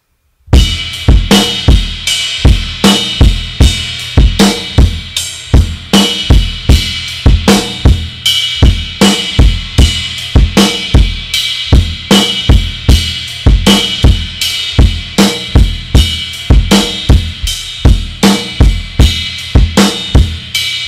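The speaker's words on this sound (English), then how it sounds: "now play the bell on the quarter note." Drum kit groove with a bell struck on each quarter note over kick and snare, a steady, even pattern of bright metallic pings and punchy hits repeating throughout, loud and close, with no voices.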